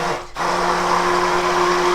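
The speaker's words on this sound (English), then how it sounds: "it's pulling our ingredients down through the blender and back up again" A blender whirs steadily while mixing the ingredients for homemade mayonnaise, a loud, close, high motor whine that briefly dips near the start and then runs continuously.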